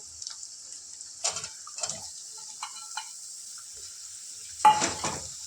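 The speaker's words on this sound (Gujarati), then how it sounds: "આ મૂળાને આપણે લસણ મરચાંવાળી જે પેસ્ટની તેલની અંદર થોડું સાતરી નાખીશું." Chopped radish is sautéed in oil with garlic-chili paste, giving a soft steady sizzle broken by a few sharp spoon-against-pan scrapes and clinks, with one louder stirring clatter near the end.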